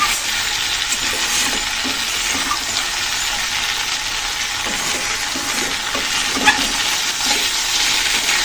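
Spring onion stalks frying in a pan with a splash of water, giving a steady, even hiss of sizzling that holds at a moderate level throughout with no talking.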